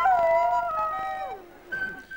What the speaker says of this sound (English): And what about that pet dog that was howling?